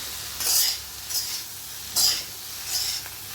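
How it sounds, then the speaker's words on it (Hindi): A spoon stirring pakoras into cooked masala in a pan, heard as four separate scraping, sizzling strokes spaced about a second apart, close and moderately loud with no talk. "अब मैं इन पकौड़ों को डाल दूँगी इसमें। इनको भी हम मिक्स करेंगे।"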